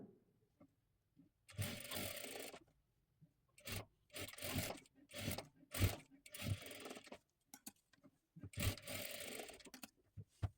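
Sewing machine stitching the shoulder seams of a boat-neck blouse, several short bursts of rapid whirring separated by pauses, close and fairly quiet.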